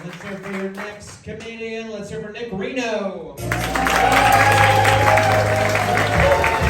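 Comedy club audience at a standup showcase bursting into loud, sustained applause and cheering after the host's voice introduces the next comedian.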